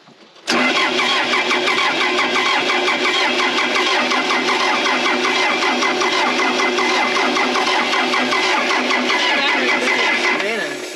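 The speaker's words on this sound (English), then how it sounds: "So I'm going to go hit the starter quick." A Case 450B dozer's engine cranks on the starter, a loud, close, continuous mechanical churning that begins abruptly and holds steady for about ten seconds without firing up into a clear idle.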